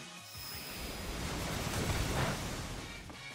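Waterfall attack from the Pokémon Sword video game: a steady broadband rush of splashing water that swells toward the middle and eases off, loud and continuous with no voices.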